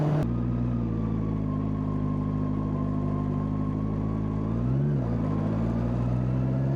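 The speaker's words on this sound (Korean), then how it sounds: "그냥 엔진 소리랑 바람 소리만 계속 들립니다" A steady car engine drone with low road and wind rumble, continuous and close, shifting slightly in pitch as the vehicle drives toward Jeju city.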